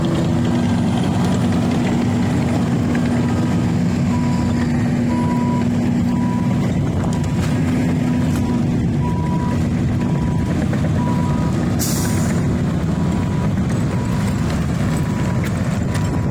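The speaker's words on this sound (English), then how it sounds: "Now watch this garbage truck over here unload" At a county landfill, a garbage truck unloading trash idles with a heavy, constant engine rumble while faint periodic reversing beeps repeat in the background.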